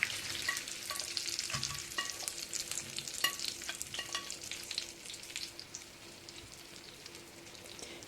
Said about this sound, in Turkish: Tereyağımız eridikten sonra hazırladığımız köftelerimizi ilave ederek kızartalım.